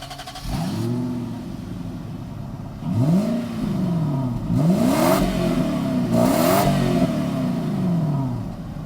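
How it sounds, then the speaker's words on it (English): An Infiniti FX45 SUV accelerates on the road, its engine rising and falling in pitch through several repeated revving sweeps, loud and close from inside the cabin, with no talking. "we're out on the road in the Infiniti FX45"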